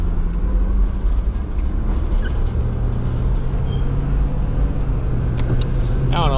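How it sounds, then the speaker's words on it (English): A Dodge Ram 1500 pickup truck pulls in nearby, a steady low engine rumble and tire noise holding throughout at close range, with a faint squeak near the end. "Truck pulling in. Golly, son. You handle that big old Dodge Ram 1500?"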